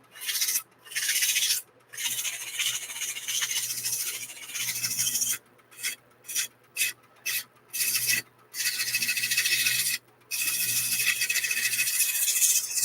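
Repeated hand sanding of a wood platter with coarse 100-grit sandpaper over rough spots, a harsh raspy scratching in long strokes broken by short pauses, close and steady with no talking.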